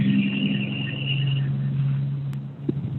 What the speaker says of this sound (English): I must have had a bus just drive by.